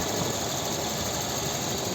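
A 2007 VW Touran's 1.4 TSI 140 hp petrol engine with manual gearbox idles steadily, giving an even, continuous hum with a light mechanical ticking and no change in pace.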